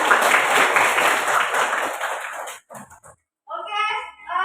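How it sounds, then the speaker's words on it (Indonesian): Students in a classroom clap together in a brief burst of applause lasting a couple of seconds, followed by a pause and then a voice speaking. "tepuk tangan untuk itu."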